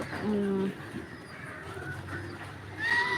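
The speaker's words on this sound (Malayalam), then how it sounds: "പിന്നെ പ്രാവുല ഒന്നിച്ചിട്ടുണ്ട് ഇത് ജോഡി പ്രാവ്" Pigeons coo nearby in soft, low, throaty bursts, with a short higher-pitched call at the end.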